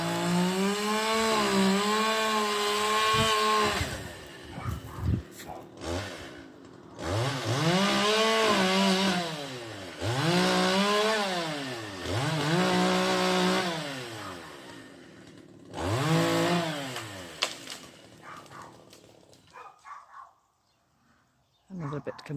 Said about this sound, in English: You can hear the chainsaw though.